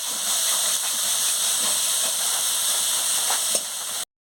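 Chilli powder and spices being sautéed in a pan for a paneer curry give a loud, steady, close sizzling hiss that runs unbroken for about four seconds and then cuts off abruptly.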